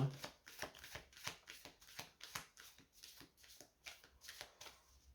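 A deck of playing cards is shuffled repeatedly at close range, with quick rhythmic riffling bursts and soft slaps recurring about twice per second, faint and alone without speech.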